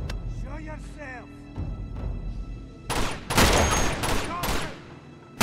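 Sniper rifle shots and heavy gunfire in the Uncharted 2: Among Thieves monastery, several loud sharp bursts clustered in the second half over a steady game background, with a voice speaking earlier.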